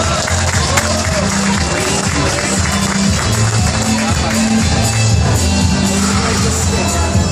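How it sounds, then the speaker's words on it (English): Crowd applause and cheering at a precision driving show at an auto show in Manila fills the whole stretch steadily and loudly, with shouts mixed in and a low rumble of engine or music under it. "All right, ladies and gentlemen, a round of applause for him."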